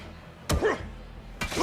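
Baseball bat hits in the video game Days Gone, two separate hard thwacking impacts about a second apart, punchy and close.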